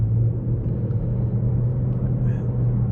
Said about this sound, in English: So starting the test drive in this Impala Premier